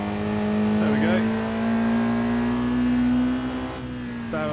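A car on a race track brakes hard into a right-hand corner, its engine holding a steady loud drone that sags as speed falls, with someone talking over it.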